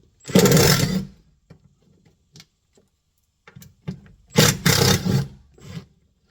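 An impact driver backs T25 Torx bolts out of a Ford F-150 SuperCab rear door in two short, loud bursts of rattling whir. Quiet handling clicks fill the pause between them.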